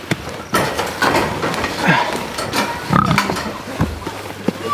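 Breeding pigs on a homestead grunt and snuffle close by in short irregular bursts, with scattered rustling and knocks through the pen, mixed with faint background voices.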